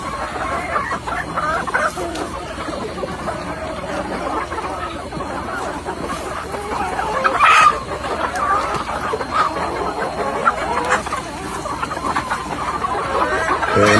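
Native Bisaya chickens on a provincial backyard farm, scattered clucks and cackles at middle distance over steady outdoor ambience, with one louder call standing out midway.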